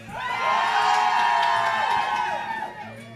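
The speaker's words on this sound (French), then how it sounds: "Vous pouvez gueuler une dernière fois ?" A bar audience at a beer-brewing microbrewery shouts, whoops and cheers together in a loud sustained roar that swells, holds and then tapers off, filling the room.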